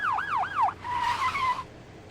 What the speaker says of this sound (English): Are those sirens?